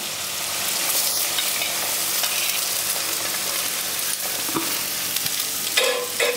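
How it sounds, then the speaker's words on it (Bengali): Vegetables frying in hot oil over a gas flame while making bottle gourd leaf fritters: a loud, continuous sizzle and hiss with occasional stirring clatter, close and steady with no talking. "এখানে সবজিগুলো খুব ভালো করে আমি ভাজা ভাজা করব"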